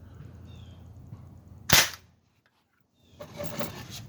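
A single sharp, loud crack from a Sig Sauer M17 CO2 pellet pistol fired over a chronograph, rising out of low background hum and dying away fast, followed by a pause and some duller handling noise.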